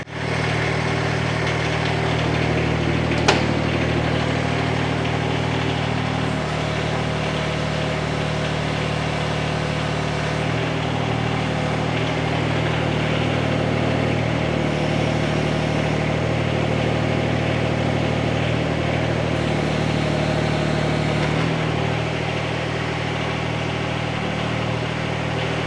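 Kymron mini excavator diesel engine running just after starting, a loud steady chugging idle with low rumble and vibration throughout, close by, with one brief sharp knock near the start.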